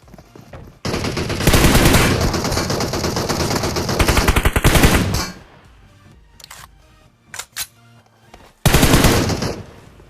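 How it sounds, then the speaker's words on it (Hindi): M416 assault rifle fire in the PUBG Mobile video game: long sustained automatic bursts, loud and close, broken by a quiet gap with a few isolated shots before another heavy burst, with no talking. "दूसरी स्क्वाड थी जिसको अब ऑफकोर्स हमारी M416 द गार्ड गन ने चपेट लिया"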